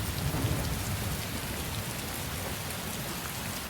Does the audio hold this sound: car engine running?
no